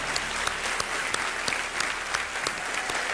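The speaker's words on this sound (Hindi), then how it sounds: "तालियां बजती रहे ताज के लिए।" Studio audience applause on a quiz show, sustained steady clapping from a crowd with a few sharp louder claps standing out, no voices over it.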